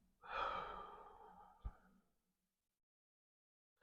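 A single deep, slow exhale, close and soft, fading out over about two seconds with a faint click near the end, then silence.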